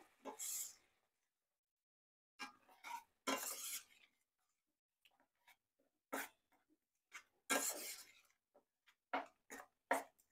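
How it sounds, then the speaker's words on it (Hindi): A spoon works spice paste into masala in a pan while cooking Dhaba-style paneer curry, giving soft scraping and clinking strokes in irregular bursts separated by quiet pauses. "इस पेस्ट को हम इसमें डाल देंगे थोड़ा सा अच्छे से पूरे मसाले में मिक्स कर लेंगे इसको"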